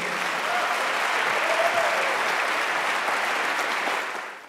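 Audience applause after a lightning talk at a JavaScript conference, steady dense clapping from a full room that holds evenly for about four seconds and then tapers off at the end.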